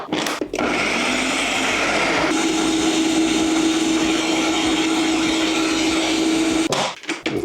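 A blender whirs loudly and steadily, blending chilies for Mexican pozole rojo, with a brief start and a sharp stop at the end; no talking.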